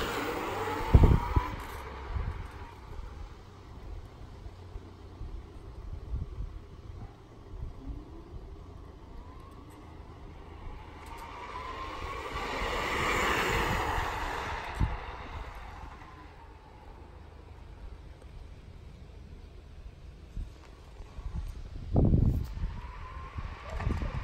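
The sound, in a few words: Dualtron 3 electric scooter passing with both motors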